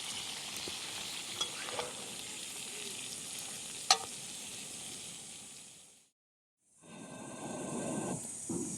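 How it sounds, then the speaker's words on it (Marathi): Prawns fry in oil in a pan outdoors, making a soft, steady sizzle with a few sharp clicks of stirring, then a short silence before the sizzle returns, near but fairly quiet. "तेल टाकून परतून घेतली"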